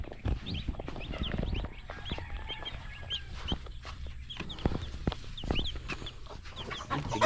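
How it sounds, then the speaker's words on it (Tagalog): Chicks and hens cluck and peep in a backyard poultry setting, many small chirps and clucks overlapping continuously at close to moderate distance, with no talking. "Cute ng sisiw natin."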